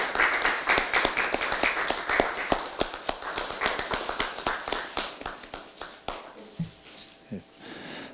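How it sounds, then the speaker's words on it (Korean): Crowd applause at a Democratic Party of Korea leadership meeting, sharp, rapid clapping that holds steady, then thins out and fades toward the end. "큰 박수 부탁드립니다"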